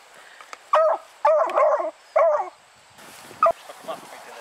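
Beagles in rabbit-tracking training bark in several short, loud bursts, with yipping calls close by and quieter sounds trailing after.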